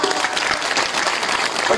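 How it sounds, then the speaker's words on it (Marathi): An audience at a devotional kirtan gathering bursts into loud, dense clapping that carries steadily throughout, close and full. "टाळ्या वाजवा"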